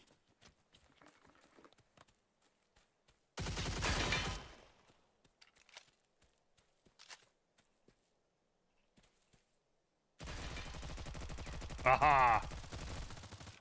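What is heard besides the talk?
NPCs shooting guns in a video game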